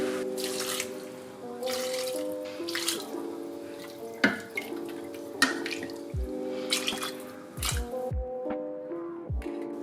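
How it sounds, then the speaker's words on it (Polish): Water running and dripping into a pot over potatoes in a home kitchen, with bursts of splashing and pouring broken by clinking, knocking handling sounds and scattered drips, close and clear with no voices. "Dodaję ziemniaki, zalewam wodą, doprowadzam do wrzenia i gotuję"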